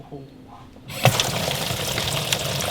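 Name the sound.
water filling a boat's live well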